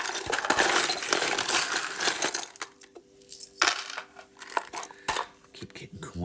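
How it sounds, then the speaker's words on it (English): A handful of small metal charms is shaken up close, giving a loud burst of jingling clinks that breaks into scattered, lighter taps and rattles. "So let me get some charms for you. I'm going to shake them on the side here."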